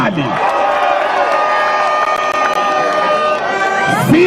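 Political rally crowd in Busia County, Kenya, roaring with cheers and applause; a loud, unbroken wall of shouting and clapping with horn-like tones running through it.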